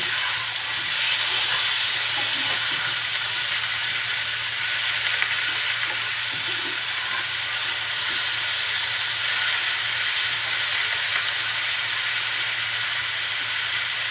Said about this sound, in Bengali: এখন এই একই তেলের ভিতরে একটু লবণ দিয়ে আমি ফুলকপিগুলো একটু ভেজে নিব।